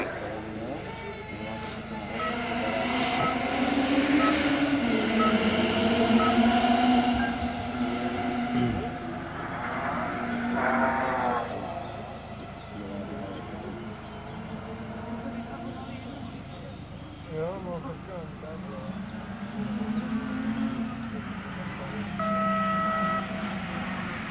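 Racing cars run a hill-climb course, their engine notes rising and falling in the distance beneath near-continuous commentary from an announcer.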